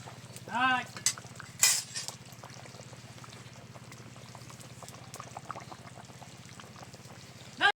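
A boiling pot of water is stirred before fish go in, with a few loud clinks and scrapes of utensil against metal over a low steady bubbling hum.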